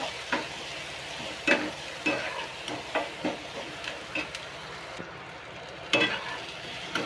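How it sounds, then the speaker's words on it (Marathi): Chopped onion frying in a pan while making chivda from leftover chapati, with a steady sizzle broken by repeated clinks and scrapes of a spoon stirring, close and alone with no voices. "कांदा चांगला भाजतोय."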